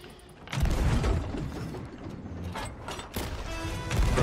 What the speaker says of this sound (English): may my chain shots be true